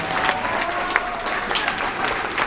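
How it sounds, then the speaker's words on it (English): A crowd applauds steadily at a hair salon grand opening, a dense wash of clapping throughout with no pauses. "Now give her a round of applause."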